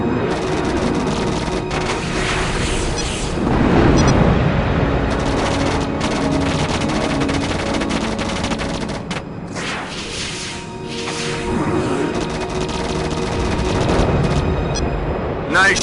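Fighter weapons fire at enemy aircraft in the video game Rebel Raiders, with repeated loud booming bursts and thuds over a continuous game soundscape.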